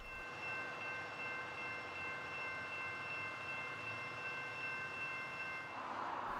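A heavy freight train carrying a nuclear container on a Schnabel car, with two cabooses and buffer flats, rumbles slowly past in town, a steady low drone with faint tonal whine, moderately distant and continuous.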